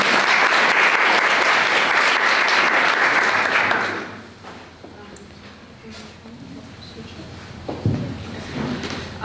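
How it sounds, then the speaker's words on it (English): An audience at a contemporary art patronage and collecting talk claps loudly and steadily for about four seconds, then the applause fades into room noise with faint shuffling and movement. "You may applause if you like."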